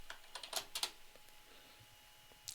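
A short run of computer keyboard typing, with a quick cluster of crisp key clicks followed by a quiet pause and then one more key press at the end. The sound is close and fairly faint, with no voice.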